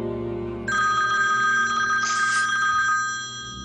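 A telephone rings in an indoor scene from a Hindi drama, a bright electronic ringtone starting abruptly and holding loud and steady over a low background hum.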